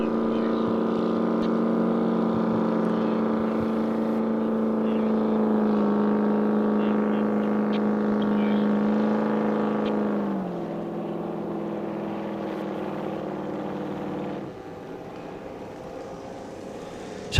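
Supersport 65 racing powerboats roar past on the course, a strong, steady engine drone that drops in pitch and fades in stages as the boats move away, with a faint commentator's voice underneath.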